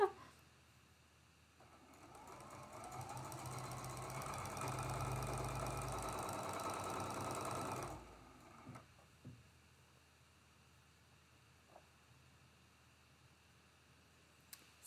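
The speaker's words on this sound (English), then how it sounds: "Still sewing, still sewing." Quilt block being stitched on a sewing machine, a steady mechanical whir running for about six seconds at close range, then stopping, followed by quiet room tone and a few faint clicks.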